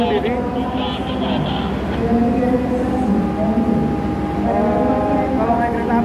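Steady rumble and rhythmic clatter inside a moving Jaka Tingkir New Generation economy-class train carriage, with tonal hums and a voice talking over the noise.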